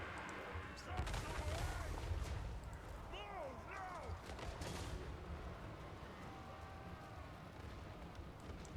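Volleys of gunfire from artillery and guns crackle and boom through a dense Total War: Warhammer battle, a continuous roar of fusillade with rumbling low blasts and scattered shouts over the din.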